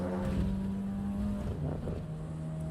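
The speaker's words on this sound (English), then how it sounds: "you've got a little bit of the crackle there, you've got the turbo, you can hear the hiss" A racing car in Assetto Corsa EVO drones steadily at near, moderate volume, its turbocharged engine holding a low tone that dips slightly midway, with faint hiss and crackle over a windy, rushing background and no talk.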